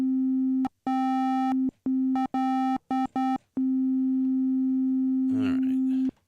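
A bright steady synthesizer tone with FM modulation sounds in repeated bursts of varying length, starting and stopping abruptly, with a brief buzzy, warbling noisy patch near the end.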